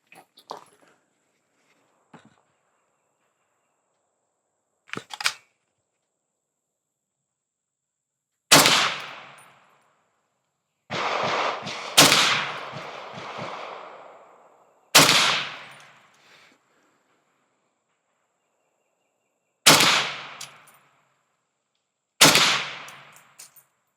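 Shots from a rifle fitted with a GPN dustcover and handguard ring out at an outdoor range, about five or six loud, sharp cracks a few seconds apart, each with a short decaying echo, after a few faint clicks.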